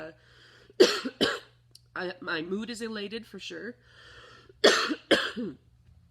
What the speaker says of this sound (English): Even the coughing is not disturbing me very much